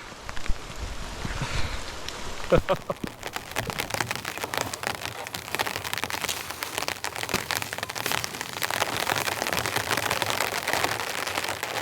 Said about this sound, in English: camping in the rain now.